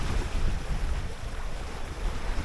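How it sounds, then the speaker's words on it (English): Aboard a junk-rigged sailboat at sea off Halifax in building wind near 25 knots, strong gusts roar across the microphone over a steady wash of whitecapped waves, a dense continuous rumble with no voices. "We've got white caps forming. The wind is building all the time."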